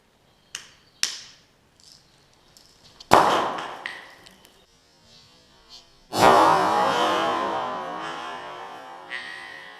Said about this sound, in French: je vais vous faire un petit test au bout du compte pour vous montrer en action la grenade